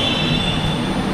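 Jakarta LRT driverless train brakes give a thin, sustained high squeal over low rolling rumble, steady for about a second.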